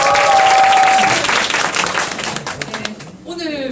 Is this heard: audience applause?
yes